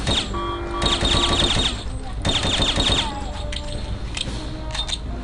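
Silenced gunfire in the video game Hitman 2, bursts of rapid suppressed shots in quick clusters over game background sound, fairly loud and close.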